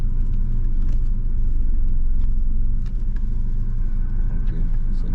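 Car reversing and turning during a Florida driver's license road test, a steady low engine rumble and road noise running throughout, with an instructor's voice talking over it.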